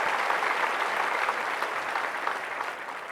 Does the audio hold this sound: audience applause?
yes